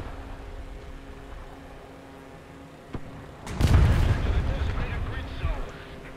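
Enemy tank fire in War Thunder: a single sharp crack near the three-second mark, then a heavy booming blast around 3.5 s with a rumbling tail. Players talk over the faint game background.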